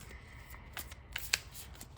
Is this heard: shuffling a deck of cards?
yes